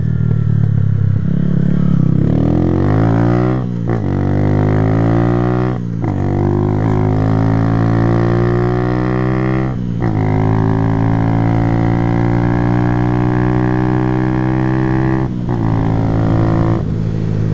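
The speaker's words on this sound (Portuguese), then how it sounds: "Eu dou uma bombada no acelerador e reduzo a marcha" A motorcycle engine runs loudly and steadily, with sharp throttle blips and pitch drops between gears as it shifts down, close by.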